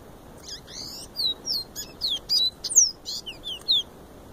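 A caboclinho songbird, a small Brazilian seedeater, sings a run of clear, high whistled notes and short chirps, about a dozen bright phrases close by over quiet outdoor background.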